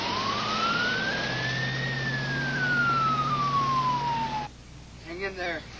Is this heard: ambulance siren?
yes